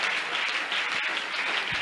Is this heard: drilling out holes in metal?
no